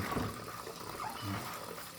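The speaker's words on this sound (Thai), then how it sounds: "เราก็จะมาล้างน้ำครับ ขยำขยำแบบนี้เลย" Kaffir lime peel is kneaded and squeezed by hand in a basin of water, giving soft sloshing and dripping splashes at close range while someone talks over it.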